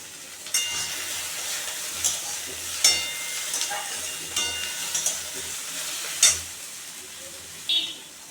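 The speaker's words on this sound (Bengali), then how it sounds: "আমি ভালো করে ভেজে নেব" Prawns and jackfruit seeds frying in a pan, giving a steady hissing sizzle broken by several sharp stirring clinks and scrapes, close and clear, no speech.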